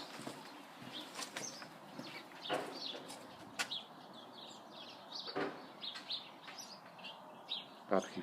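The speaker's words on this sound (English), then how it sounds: "You hear the birds tweeting as well." Birds chirp and tweet in a back garden with decking and turf, scattered short calls, some near and some farther off, over a quiet outdoor background.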